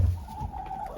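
Chickens on a farm giving a short, close cluck over a faint outdoor background, lasting about a second with no talk.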